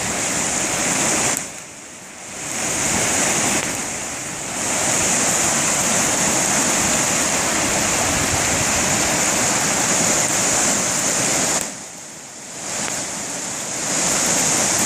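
Loud, continuous rush of a rain-swollen stream, close by and unbroken, briefly dipping twice before surging back.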